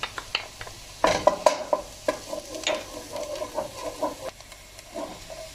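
Onions and then garlic sautéing in a pan for a regional sıkıcık soup, with a soft sizzle under repeated scraping and stirring strokes of a spoon, near and moderately loud, with no one talking.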